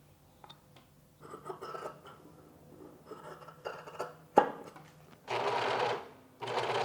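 A sewing machine stitches together the ends of a t-shirt collar strip in several short bursts, then a longer whirring run near the end, with handling clicks and rustles in between.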